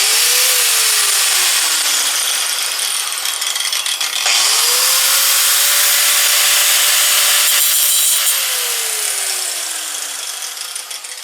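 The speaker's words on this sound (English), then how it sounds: "Get out my Sawzall and see what we can do with that" A Sawzall reciprocating saw cuts through a metal bracket from a satellite dish, a loud continuous buzzing rasp with the motor pitch rising and falling across two long passes, close up and without talk.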